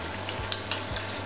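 Squid cake mixture frying in oil in a pan, a soft steady sizzle close by, with two sharp light taps of a spoon against the pan and no talking.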